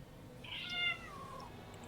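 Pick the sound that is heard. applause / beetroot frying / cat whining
cat whining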